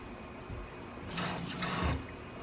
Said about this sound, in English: I just give them a good rinse to make sure I got all the shell